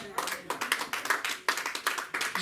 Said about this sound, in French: Ça c'est les acclamations, alléluia